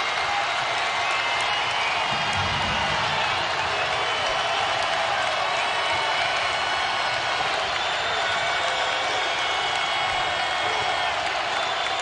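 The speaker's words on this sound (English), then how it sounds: "The sellout crowd on its feet." Sellout crowd at a Nevada versus San Diego State college basketball game keeps up a steady, broad roar of cheering across the whole stretch, with no clear voices rising above it.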